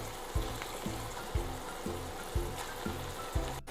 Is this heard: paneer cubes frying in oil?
yes